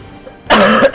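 A sick man coughs once, a single loud, harsh burst right at the microphone after a near-silent moment, ending with a second short rasp.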